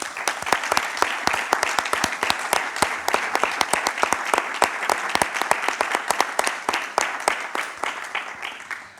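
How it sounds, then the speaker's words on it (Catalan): Sparse audience applause at a book and culture presentation, individual claps standing out sharply in an uneven rhythm, fairly near, thinning gradually toward the end. "Un aplaudiment."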